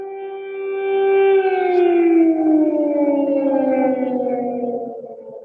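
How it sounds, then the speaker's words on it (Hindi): An air raid siren wails over Kyiv, a loud sustained tone that rises, holds and slowly falls, with no voices over it. "ये लगातार सायरन इस बात की इंडिकेशन है कि एयर रेड की संभावना है या मिसाइल रेड की संभावना है कीव के ऊपर।"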